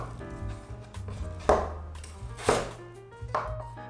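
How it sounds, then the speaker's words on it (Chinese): Knife chopping scraped, peeled potatoes on a board, three firm strikes spaced about a second apart, close and fairly loud over a low background hum. "把刮好皮的地蛋切碎"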